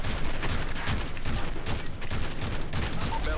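Rapid, dense gunfire erupts during a room breach in Modern Warfare 3, sustained bursts of shots close by and loud throughout.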